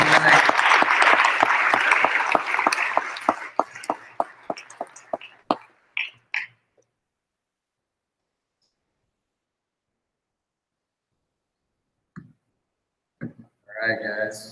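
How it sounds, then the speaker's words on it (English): Audience applause at a company training session, a dense wash of clapping that thins into scattered individual claps and fades to silence, followed by a few faint later sounds. "Give him a round of applause."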